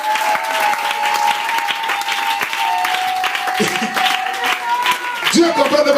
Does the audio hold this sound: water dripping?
no